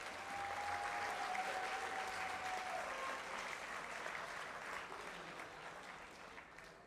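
A hall of fame induction audience for a school athletics ceremony applauds steadily in a large room, a dense wash of clapping that holds for several seconds before slowly thinning toward the end.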